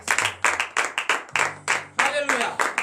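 A church congregation at morning prayer claps in a steady rhythmic beat, with a low tone and voices audible underneath, close and moderately loud.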